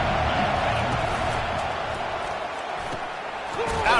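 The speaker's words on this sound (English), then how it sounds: "This crowd bringing the energy and noise early" Stadium crowd noise from an NCAA college football video game, Memphis versus Clemson, a continuous roaring wash of fans that swells slightly at the end under faint commentary.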